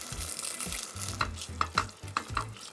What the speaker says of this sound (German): Und jetzt kommen 400 Gramm stückige Tomaten rein.